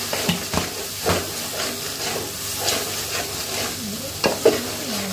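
A spoon stirs coriander powder into a chicken and bottle gourd curry in a pot, scraping in repeated strokes over a steady sizzle and steamy hiss, close and fairly loud.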